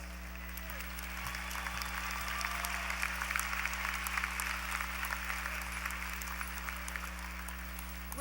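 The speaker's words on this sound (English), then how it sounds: "Let's applaud our College of Arts, Letters, and Sciences graduates." Applause for graduates at a university fall commencement ceremony in a large hall: a broad, even wash of many hands clapping, steady and sustained, heard at a distance over a low hum.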